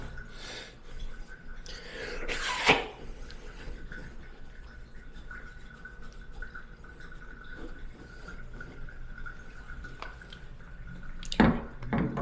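Water drips from a Rohl shower handle in a quiet bathroom: a few sparse, soft drops and small splashes, faint and close, with one louder splash near the start and another near the end.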